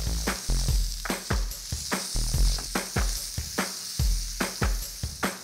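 Onion, garlic, peppers, corn and tomatoes sizzle in a hot pan, a loud steady hiss broken by rhythmic scraping stirs about twice a second, close up with no talking.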